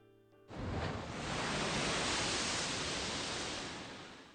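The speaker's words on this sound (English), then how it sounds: "Why is the ocean so damn loud?" Loud ocean waves in a video game, a broad, roaring wash of surf that swells in suddenly and holds strong and steady before easing slightly, with no voices.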